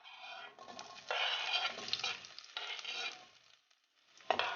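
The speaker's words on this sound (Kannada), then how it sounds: "ಕೆಲವೊಂದು ತರಕಾರಿ ಹಾಕ್ಕೊಳ್ಳೋಣ. Gas low ಫ್ಲೇಮಲ್ಲಿದೆ." Carrot, beans, capsicum and peas sizzle and fry in a pan over a low gas flame, soft stirring scrapes rising and falling in a few bursts, close and fairly quiet.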